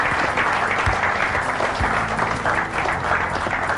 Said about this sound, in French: Et il y a aussi Laetitia Mbombo, que nous recevons avec plaisir sous vos acclamations pour l'encourager.